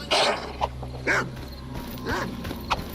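Mutant dog barking in the video game STALKER Anomaly: three or four sharp, loud barks spaced about a second apart over a steady low game ambience hum.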